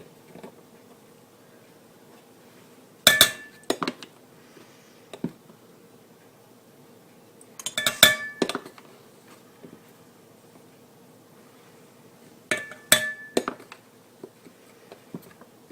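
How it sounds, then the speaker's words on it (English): Ground chia seed scooped by the tablespoon and poured into a bowl for sugar-free oatmeal cookie dough, heard as three clustered bursts of soft clinks and rustling patter, separated by quiet pauses, close and moderately loud. "So I'm going to add 4 tablespoons of ground chia."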